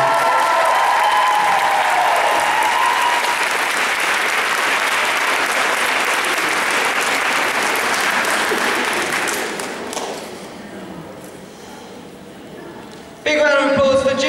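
Loud audience applause at a pole dancing championship results ceremony for the third place expert category winner, dense and sustained, thinning out near the end before a voice briefly cuts in.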